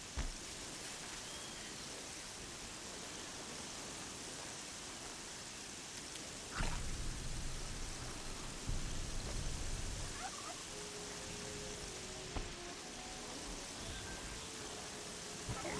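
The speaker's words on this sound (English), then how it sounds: "And it's raining, apparently." Steady rain hisses through a Horizon Zero Dawn game scene at a quiet, even level, with a couple of low rumbling swells partway through and brief game effects near the end.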